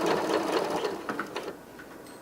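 A sewing machine runs steadily, stitching a quarter-inch seam on a fur scarf with a close, continuous mechanical whir that eases off near the end.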